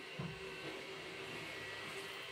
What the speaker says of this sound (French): l'aspirateur qui passe, c'est horrible